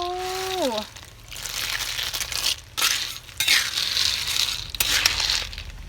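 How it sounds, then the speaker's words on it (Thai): Ingredients for a Lao snack are stir-roasted in a hot pan until the water dries off, giving a steady sizzling crackle with rough scraping bursts; a short spoken voice precedes it. "คั่วไปเนาะทุกคนเนาะจนหอดน้ำแห้งกันแหละ"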